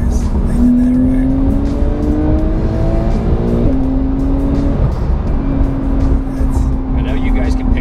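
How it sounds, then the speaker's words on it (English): A 2020 Porsche 911 Carrera S (992) gives off a high-pitched intake howl as it accelerates through gears, a rising tone that drops at each shift, heard from inside the cabin under steady road noise while someone talks over it. "It does have that GT howl. That intake noise."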